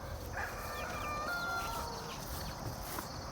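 Backyard hens give soft, scattered clucks and brief calls at a little distance, with faint farmyard ambience and no talking.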